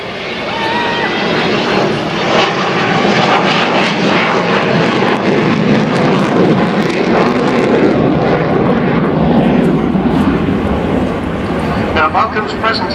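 The Avro Vulcan XH558 delta-wing jet bomber passes at the Yeovilton airday 2011 with its bomb doors open, a loud continuous engine roar that holds for several seconds and then eases, with voices audible over it.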